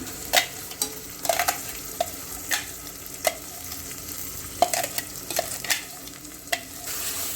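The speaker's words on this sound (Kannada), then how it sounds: "ಈಗ ಇದನ್ನು ಚೆನ್ನಾಗಿ ಮಿಕ್ಸ್ ಮಾಡ್ಕೊಂಡಿದ್ವಿ" Ground masala frying in a pan for home-style kushka: a soft continuous sizzle is broken by irregular sharp clinks and scrapes of a spoon stirring, with no talk.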